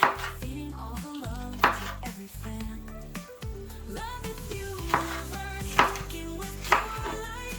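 Knife chopping tomatoes on a cutting board in a home kitchen, a steady run of close, crisp cuts with a few louder knocks, no talking.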